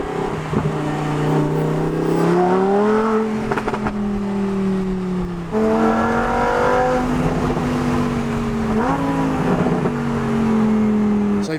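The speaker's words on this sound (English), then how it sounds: "Sounds so good, this car." A car engine revs near the Nurburgring, close and loud, with rising and falling harmonic tones, a sharp cut-off midway, then another surge of revving.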